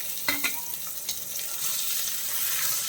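Chopped onion and capsicum sizzle in a hot pan while being stirred for a broccoli roast, a steady frying hiss with a few scraping clicks of the spoon near the start.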